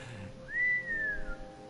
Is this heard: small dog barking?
no